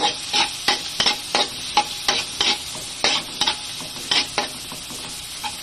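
Garlic sautéed in a pan for kare kare: a utensil scrapes and taps the pan in quick repeated strokes over a continuous close sizzle, with no talking.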